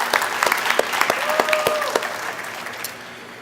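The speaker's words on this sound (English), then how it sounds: "Can we please give them a round of applause?" Dense applause from an audience at an anniversary celebration for a learning resource center, steady clapping that fades toward the end, with a brief voice over the top.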